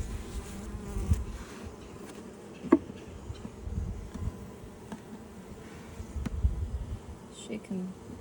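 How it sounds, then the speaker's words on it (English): Bees buzzing around a beehive during a hive inspection, a continuous low droning hum close by, with a person speaking quietly and occasional soft knocks of equipment. "So we've got a couple of bees."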